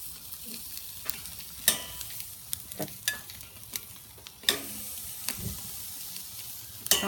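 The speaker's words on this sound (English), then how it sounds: "So I'm gonna start them on the direct heat. Get a little bit of a char on them." Pesto chicken wings sizzle over direct heat on a grill, a low steady hiss punctuated by sharp pops and crackles scattered irregularly across the stretch, with no talking.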